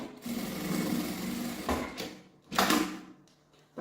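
Sewing machine stitching the lining of a sling backpack, a steady close mechanical whirr of the needle running, broken by brief pauses and a couple of louder clunks as the fabric is moved.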